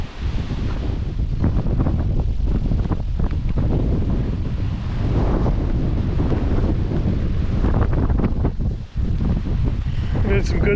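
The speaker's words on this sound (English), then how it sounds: "Probably can't hear me because it's windy anyway." Gusting wind buffets the microphone with a low, continuous roar, steady throughout, with a voice speaking underneath.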